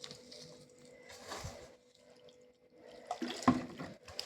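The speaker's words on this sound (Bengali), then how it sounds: "ডিমটা দিয়ে কিন্তু এই চালের গুঁড়ো আর পেঁয়াজ কলি সব মশলাগুলো দিয়ে ভালো করে মাখিয়ে নিতে" Soft, wet squishing as spring onion pakora batter with egg, rice flour and spices is worked by hand, in quiet intermittent bursts with a louder squelch near the end.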